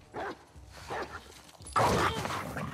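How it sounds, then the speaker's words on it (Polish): A dog barks in The Last of Us Part II, two short separate barks followed by a louder, harsher burst of barking, fairly close. "Nie, nie, no pies."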